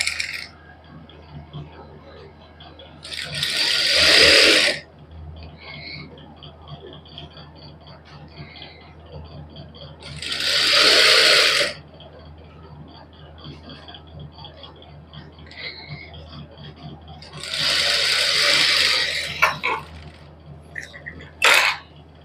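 A sewing machine runs a loose basting seam on a suit, three separate bursts of stitching a few seconds apart over a quiet room, each burst lasting about one to two seconds.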